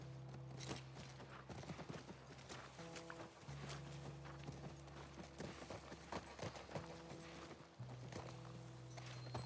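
Horse hooves clip-clop steadily in The Last of Us on PS5, a continuous string of sharp, quick hoofbeats up close, with a low steady hum and tonal music underneath.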